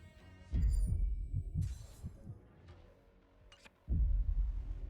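A heartbeat sound effect from the game Honkai: Star Rail, a deep, muffled double thump repeating in slow bursts, fading into a quieter stretch with faint tones before the heavy beating returns.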